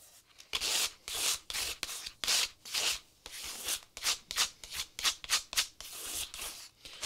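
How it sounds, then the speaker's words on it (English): Repeated scraping strokes of excess paint being dragged across an art journal page during mixed-media work, a close, dry rasping rhythm of about a dozen short passes with brief pauses between them. "I just scrape off the excess paint"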